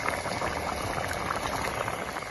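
Pork curry with thick gravy boiling in a pot, giving a steady, dense bubbling and popping that stays close and even throughout, with no voices.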